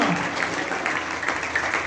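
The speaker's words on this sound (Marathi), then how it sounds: "जोरात टाळ्या वाजवून धन्यवाद द्या येशूला" A church congregation claps loudly in praise, a dense continuous wash of many hands sustained steadily through the short stretch with no voices standing out.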